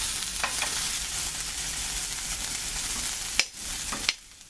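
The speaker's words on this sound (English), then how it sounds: "So you can see the last of the meat is on. Just browning it up." Beef pieces brown in hot oil in a pan for stew, giving a steady close sizzle and crackle, broken near the end by a couple of sharp utensil clacks against the pan.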